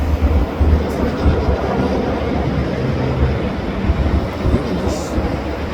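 A train switching racks in a rail yard along a parkway, a steady dense rumble of rolling cars heard from some distance, unbroken throughout.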